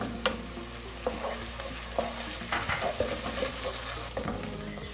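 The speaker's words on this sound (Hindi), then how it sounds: "लहसुन अदरक को मैंने 2 मिनट तक प्याज के साथ भूना है" Ginger garlic paste frying with onions in a pan for mash dal, giving a steady sizzle with intermittent scraping and stirring clatter throughout, close and moderately loud with no talking.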